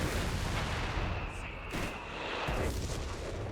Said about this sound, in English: Oh, barrage hitting that sniper.